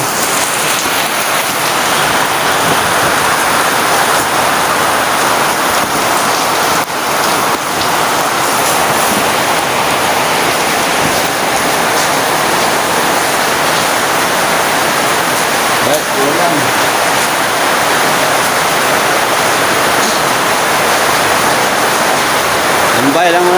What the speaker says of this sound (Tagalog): hindi kami makatrabaho kasi malakas ng ulan